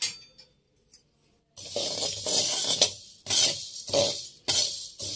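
Whole spices for a homemade radish, carrot and green chilli pickle being dry-roasted and stirred in a hot kadhai. After a few soft clinks, bursts of dry rustling and scraping follow in repeated close, fairly loud strokes.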